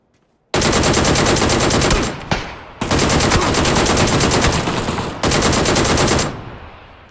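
A DP-28 machine gun fires in the video game PUBG in three loud, close, sustained bursts of rapid automatic shots with brief pauses between them.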